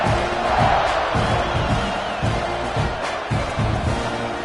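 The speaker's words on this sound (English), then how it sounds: "this crowd is buzzing after that last score" Football stadium crowd buzzing after a score, a loud continuous roar of many voices with scattered shouts and rhythmic swells.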